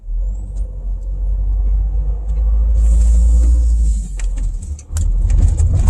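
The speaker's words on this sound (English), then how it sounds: "all of a sudden it's ice, I'm turning, the car starts sliding, I'm braking" A car driving from asphalt onto ice, turning and sliding while braking in slippery conditions, heard from inside as a loud, steady low engine and road rumble, with a brighter scraping hiss rising midway and a short dip near the end.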